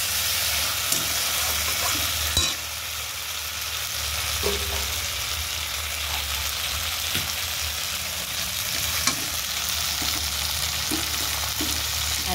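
Bitter gourd leaf fritters sizzle in hot oil in a pan, a continuous loud crackling fry with occasional stirring clicks and scrapes.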